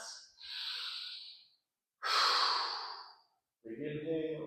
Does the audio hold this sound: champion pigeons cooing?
no